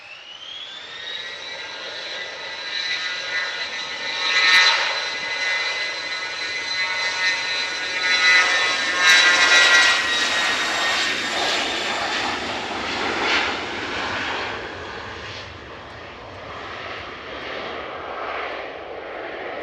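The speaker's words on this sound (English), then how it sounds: "engines are beginning to spool up." Airliner jet engines at Manchester Airport spool up with a rising high whine and a broad roar that hold steady and loud, then fade slightly toward the end.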